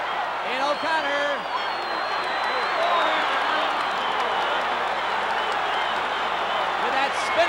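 A wrestling crowd during a Buddy Rogers vs Pat O'Connor match cheers and applauds in a dense, continuous roar that fills the hall. A commentator's voice runs over the noise throughout.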